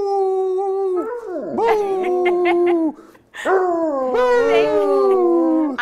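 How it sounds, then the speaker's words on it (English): A dog howls loudly and close, two long wavering bouts of rising and falling howls split by a short pause, with no talk over them. "do you want to wrap us real quick with a howl?"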